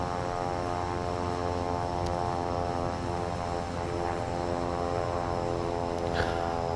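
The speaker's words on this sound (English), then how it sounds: "We're taxiing over to 3-3." A propeller airplane taxis in Microsoft Flight Simulator 2024, its engine a steady, even drone with a constant hum and layered tonal whine, close and alone throughout.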